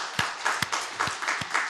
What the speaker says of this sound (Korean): 이분들을 위해서 박수로 또 한번 격려합시다